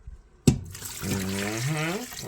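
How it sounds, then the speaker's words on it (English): Water pours into a cooking pot for a homemade TV dinner, starting with a sharp splash and settling into a steady, rising gurgle as the pot fills, close and fairly loud. "now we're going to add our water"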